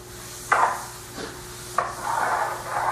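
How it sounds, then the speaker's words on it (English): A hand sweeps over the smooth finished surface of a wooden Sheraton writing desk, giving soft brushing rubs: a short swipe, a fainter one, then a longer, steadier pass, close and quiet with no voice. "Just rub my hand over it and see if there's any other spots"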